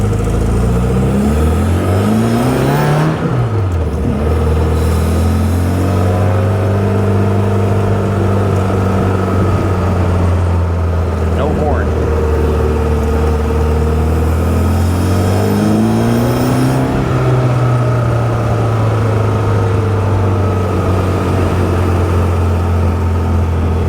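A newly built engine in an Austin Healey Bugeye Super-Sprite revs loudly and steadily. The pitch climbs and falls in several sweeps before it settles into a sustained idle-to-mid rev, close up and with no voices.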